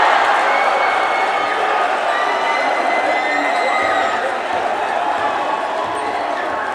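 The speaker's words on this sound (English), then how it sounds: "That's why there's extra gusto in that cheering section across the way." A crowd in a gym roars and cheers loudly and steadily at a girls high school basketball game after a dunk, the noise sustained throughout and easing slightly toward the end.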